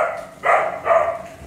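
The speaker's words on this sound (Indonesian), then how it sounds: "Oh, tuh ada anjing di dalam. Anakan." An American Akita puppy barks in a kennel: two close, loud, slightly drawn-out barks about half a second apart, standing alone against a quiet background.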